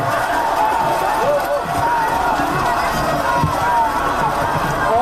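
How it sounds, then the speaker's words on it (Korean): A large outdoor crowd at a Korean election campaign rally claps and cheers loudly and steadily, a dense roar of applause and shouting with a voice booming over the noise. "네, 다시 한번 박수 보내주십시오."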